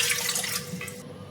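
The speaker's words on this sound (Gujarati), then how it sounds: "એટલું જ આપણે પાણી ભરશું" Water poured from a vessel into a cooking pot while making Gujarati lapsi: a close, steady splashing rush lasting about a second that then tapers off.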